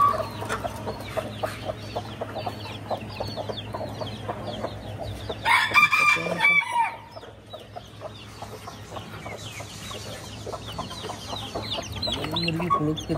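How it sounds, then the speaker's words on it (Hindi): Chickens cluck and chatter nearby in a busy flock, with a loud crowing burst partway through and soft scratching and movement around them. "मुर्गी है"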